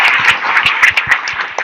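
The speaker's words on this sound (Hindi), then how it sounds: "एक बार सभी कार्यकर्ताओं के लिए जोरदार ताली बजा करके अभिनंदन" Loud, dense applause from a large crowd honouring party workers at a gathering, a continuous roar of many hands clapping close by and unbroken for its whole length, with no speech over it.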